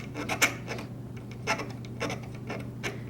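A metal file rasps across metal parts in short, irregular strokes, each a dry scraping burst with pauses between, up close and fairly quiet.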